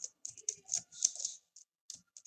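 Java code being typed on a computer keyboard, close and alone: quick irregular bursts of crisp key clicks with short pauses between runs.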